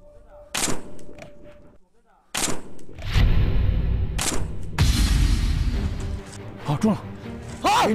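Gunshots at a military shooting competition, a follow-up shot at a head target: several sharp, loud cracks spaced a second or two apart, with people talking over and between them.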